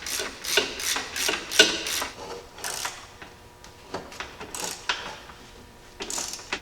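A ratchet tightens the lower bolt of a shock absorber on a Jeep Cherokee XJ during a 3-inch suspension lift. It gives several bursts of quick clicking with short pauses between them, close and fairly quiet.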